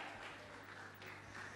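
An audience claps to welcome a speaker at a Thai church testimony gathering, a dense, steady wash of applause filling the room, fairly faint and continuous without a break.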